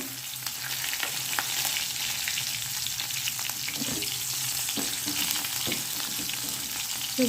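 Curry leaves and crushed garlic fry in hot oil in a home kitchen pan, a continuous close sizzle with a few soft stirring scrapes, no voices.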